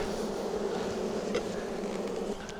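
A thick, continuous hum of many honey bees at an opened hive, close and steady, with a faint knock near the end and no speech.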